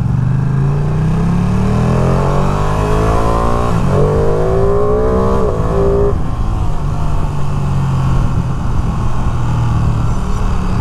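A 2023 Ducati Panigale V2 motorcycle accelerating hard, its loud engine note climbing in pitch through quick-shifter gear changes that cut in without a pause, with no talk over it.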